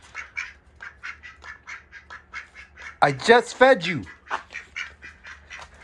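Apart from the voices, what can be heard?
duck quacking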